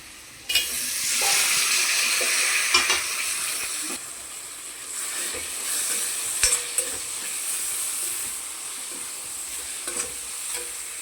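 Tomatoes sizzle and fry in a pan of spiced masala for a paneer curry, with steady loud frying hiss and occasional clinks and scrapes of stirring throughout.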